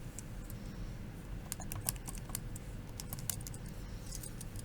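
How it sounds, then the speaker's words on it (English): Fingers tap quickly on a calculator keypad, a faint, close run of small clicks against a low background hum. "we can type that on our calculator."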